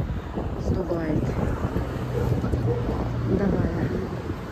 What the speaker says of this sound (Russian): а то ну ветер совсем сдувает